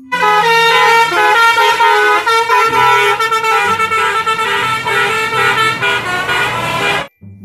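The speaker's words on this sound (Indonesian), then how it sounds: "Mobil bus telolet, teman-teman." A toy telolet bus horn plays a loud, continuous melodic tune of bright, stacked tones that shift pitch for about seven seconds, then cuts off abruptly.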